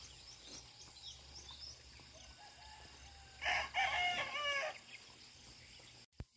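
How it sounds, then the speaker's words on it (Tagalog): A Visayan native chicken crows once, a fairly loud, close call lasting about a second, on a rural rice-farming homestead in the Philippines, with faint bird chirps and quiet ambience before and after. "Manok Bisaya, guys."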